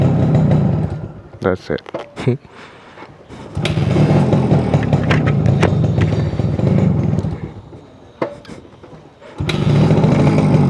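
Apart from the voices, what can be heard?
Suzuki AX100 motorcycle engine running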